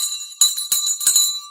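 A stock exchange closing bell rings in repeated bursts, loud and bright with sustained metallic overtones, marking the end of the trading day for the S&P 500 and TSX markets.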